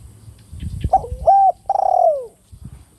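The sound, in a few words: spotted dove cooing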